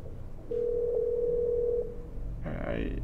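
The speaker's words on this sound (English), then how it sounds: "we're calling somebody up." A telephone dial tone in a fan-made Five Nights at Freddy's horror video game sounds as a single steady pitched tone for about a second and a half, followed by a brief burst of other game noise.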